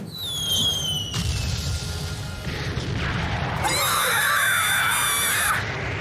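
A grenade blast in a One Piece anime scene, a loud booming crash with bright ringing and shrill screaming-like effects over a dense rumble, lasting several seconds.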